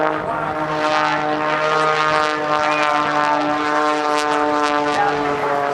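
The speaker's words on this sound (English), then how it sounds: "The airplane rolls." A propeller aerobatic airplane rolls through its routine at the 2008 NAS Oceana airshow, flown by Patty Wagstaff, its steady loud engine drone holding throughout with a slight pitch shift as the aircraft maneuvers overhead.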